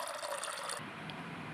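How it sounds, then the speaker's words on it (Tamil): Pani puri water is poured from an opened packet, making a steady, close liquid pour with trickling that runs continuously on its own for about a second and a half. "பானி தண்ணி பேக்கெட்டை பிரித்து ஊற்றி"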